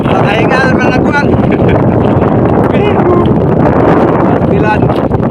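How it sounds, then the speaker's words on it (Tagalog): Strong wind buffets the microphone in a steady, heavy roar over a boat on open water, with voices calling faintly beneath it. "Lakas ng hangin."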